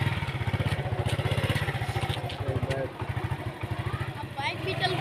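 A motorcycle engine pulses steadily and close by as the bike pulls away on a neighbourhood street, with a voice talking over it throughout.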